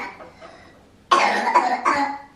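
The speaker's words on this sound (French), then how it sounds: "Et ce matin, elle fait que tousser." Young girl with a cough, a faint breathy sound first, then a burst of several close, loud coughs in quick succession.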